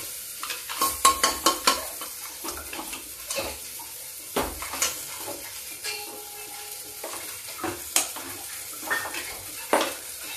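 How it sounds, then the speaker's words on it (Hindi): Urad dal fries in a pan, a low sizzle under repeated metallic clinks and scrapes of a spoon stirring against the pan at an uneven pace, with no voices. "देखिए इसको फ्राई कर दो"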